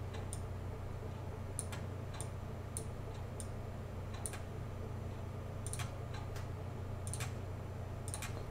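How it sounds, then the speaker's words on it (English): Computer mouse button clicked repeatedly while working in Illustrator, giving scattered sharp, faint ticks in uneven bursts over a steady low electrical hum of the room. "I'm just clicking, holding down the mouse button to create my anchor points"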